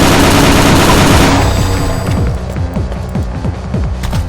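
Rapid, loud video-game gunfire from a quad damage power-up pounds at first in a dense burst, then settles into a throbbing run of evenly spaced shots.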